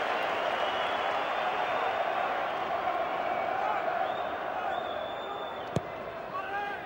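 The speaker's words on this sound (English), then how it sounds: "The Hearts fans stand to applaud Paul Hartley as he goes across to take this." Hearts supporters at a Scottish football match stand and applaud Paul Hartley as he walks over to take a corner, a broad, steady wash of clapping and crowd noise filling the stadium throughout, with one sharp knock near the end.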